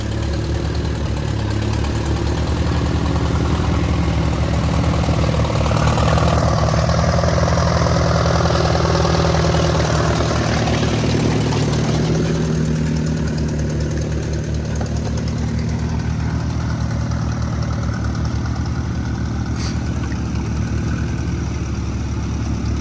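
A half-track tractor engine runs steadily and loudly while skidding logs through a swamp crossing toward a sugar shack, with a constant mid-range drone and knocking throb that never lets up across the whole stretch.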